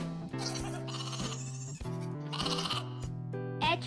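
A goat bleats in a few wavering, nasal cries, close and fairly loud, with short breaks between calls over a soft musical backing.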